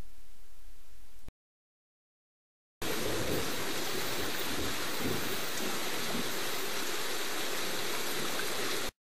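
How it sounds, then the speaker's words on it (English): Steady rain falls outside as dense, loud, hissing noise. A brief duller stretch and a moment of silence come before the downpour sounds continuously and evenly to the end, with no voices. "It's still raining outside"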